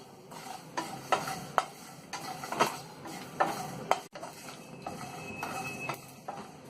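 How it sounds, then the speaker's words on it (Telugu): Poppy seeds and dry coconut pieces frying lightly in a pan, a soft sizzle broken by repeated spatula stirs and scrapes, close and fairly quiet. "గసగసాలు, ఎండు కొబ్బరి ముక్కలను వేసుకొని లైట్గా ఫ్రై చేసుకోవాలి"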